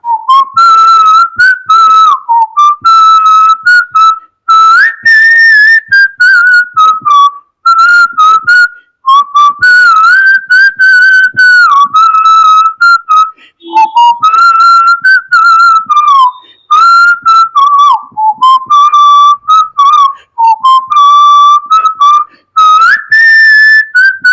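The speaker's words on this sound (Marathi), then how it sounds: "मी शिट्टीतून गाणं म्हणून दाखवणार, ते गाणं कुठलं आहे आम्हाला आवर्जून सांगा" A person whistles a song solo, a clear, loud melodic line in phrased bursts with short breaths between, close to the listener and with no talking.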